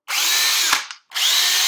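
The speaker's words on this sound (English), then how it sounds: "So, Mr. Phillips' drill, hammer drill." A battery-powered hammer drill whirs loudly at close range in two steady runs, separated by a brief stop with a click, with no talking over it.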